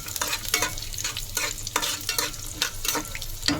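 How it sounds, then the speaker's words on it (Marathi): Cumin seeds, green chillies and peanuts fry in hot oil, giving a steady close crackle broken by repeated scraping stirs of a spatula through the pan. "तेल गरम झाल्यावर बघा जिरा, हिरवी मिरची आणि शेंगदाणा, तर त्याला भाजून द्यायची 1 सेकंडभर."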